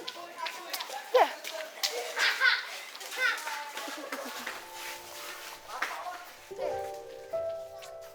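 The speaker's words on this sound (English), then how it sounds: "the kids are making noise the same way that I did" Children play and shout outdoors in the evening, their high excited voices and calls coming and going at a moderate distance, with rain pattering on surfaces in the background.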